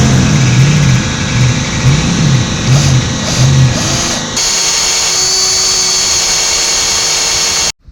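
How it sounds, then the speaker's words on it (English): A power drill whines steadily at high pitch, drilling out a rusty bolt on a 1983 Honda XL200R dirt bike, with a low rumbling hum in the first half, then running alone before cutting off abruptly near the end. "we're going to take a drill bit and see if we can drill some of it out"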